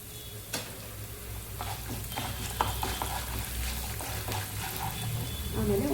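Coriander seeds fry in a pan, giving a soft sizzle with scattered ticks and pops from stirring, faint and fairly close.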